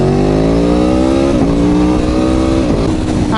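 An Aprilia Tuono Factory V4 1100 motorcycle engine revs loudly and close, climbing in pitch through a long pull, dipping at two shifts, then rising again.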